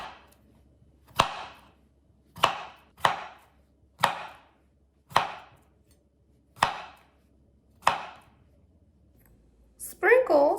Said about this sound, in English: Slice the cucumbers to a 1/4 inch thick